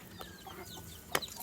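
A laying hen cackles softly in short broken bursts with a brief sharper squawk near the end, close by, over a low backyard farmyard background.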